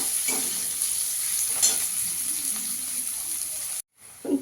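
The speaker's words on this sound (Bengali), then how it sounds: "পেঁয়াজটা দিয়ে একটু ভেজে নেব" Chopped onion fries in a pan for dal fry, a steady bright sizzle with occasional soft scrapes of stirring, cutting abruptly to silence before the hiss briefly returns.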